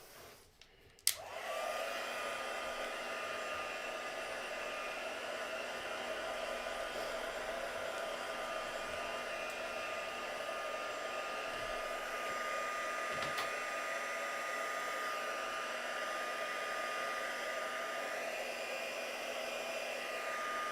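A hair dryer blows steadily on a mixed media artwork, switching on after a brief clatter and then holding a constant, close, even whir with no talking.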